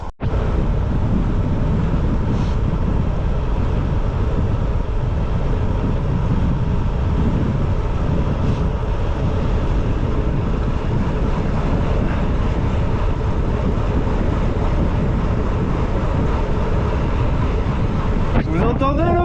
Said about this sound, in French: Vous entendez le vent, bordel?